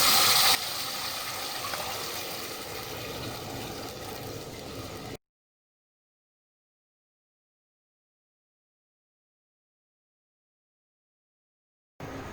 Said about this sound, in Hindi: अब इसमें हम 6 कप पानी डालेंगे।